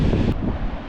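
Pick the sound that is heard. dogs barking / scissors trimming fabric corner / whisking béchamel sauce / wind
wind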